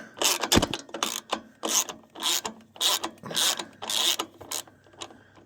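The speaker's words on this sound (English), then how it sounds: "Thumb in one hand, ratcheting with the other hand." A ratchet wrench loosening a bolt on a 1991 Noma 12/39 riding lawnmower, about eight bursts of close, rapid clicking in an even back-and-forth rhythm.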